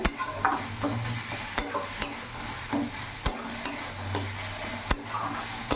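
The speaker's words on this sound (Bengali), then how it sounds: "ভালো করে নাড়াচাড়া করে নিয়েছি।" A spatula stirs partly boiled tomatoes in a pan, making a soft ongoing sizzle with regular scraping strokes and sharp metallic taps against the pan, close by.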